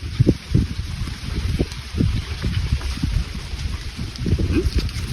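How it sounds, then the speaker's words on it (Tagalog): Wind gusts buffet the microphone in low, rumbling bursts, steady and fairly loud, with no voices. "Mahangin."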